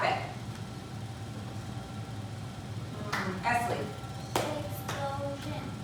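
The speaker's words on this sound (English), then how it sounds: "Okay, so you can clap it." A class clapping out the syllables of a word in a group lesson: a few quick rounds of hand claps near the end, over steady room noise.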